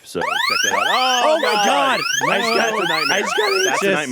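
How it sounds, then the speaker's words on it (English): A loud electronic alarm sounds during a live charity stream for Extra Life. It is built from repeated rising, siren-like sweeping tones that continue almost without a break, while people exclaim over it. "every time we get that kind of donation, that alarm goes off"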